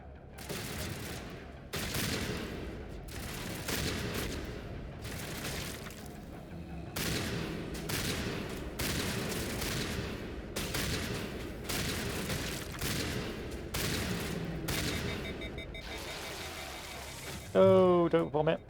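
Shotgun fire in the video game Mass Effect, a long series of heavy single blasts spaced a second or two apart, each with a booming tail, and a short burst of electronic noise at the end.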